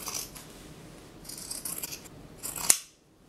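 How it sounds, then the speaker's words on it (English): Scissors snip straight up through T-shirt fabric close up, a soft rasping cut ending in a sharp closing snap. "So I'm just going to take my scissors and cut straight up"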